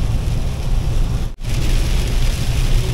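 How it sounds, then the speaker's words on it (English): Heavy rain and gusting wind batter a truck on the road while it pulls an empty trailer, a dense loud wash of noise with one abrupt momentary dropout midway. "this rain picked up, the wind picked up"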